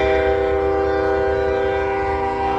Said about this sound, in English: Sorry for the train, guys.